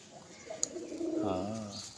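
Pigeons coo softly nearby, a low throaty rolling call rising near the end, with a faint chirp and light background noise among many birds being fed mung seeds.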